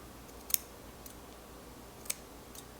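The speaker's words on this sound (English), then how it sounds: "And I snip it. Just a little bit." Scissors snip the ends of mini hair twists on fine natural hair, two sharp, faint metallic cuts about one and a half seconds apart over quiet room tone.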